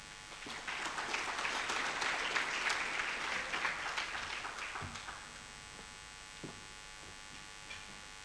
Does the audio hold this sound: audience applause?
yes